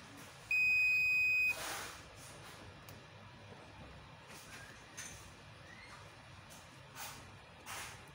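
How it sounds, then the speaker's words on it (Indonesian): A 12V DC pure sine wave inverter, rated 500 W with a 220V output, is switched on and gives a single steady, high-pitched electronic beep lasting about a second. Quieter clicks and faint noises follow against a low background hum. "Untuk pertama kali saya nyalakan inverternya terlebih dahulu."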